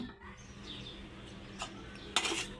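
Spoonfuls of beef tehari rice served onto a plate in a home kitchen, with quiet scraping and a few sharp clinks of a utensil against the dish, faint and close with no talk.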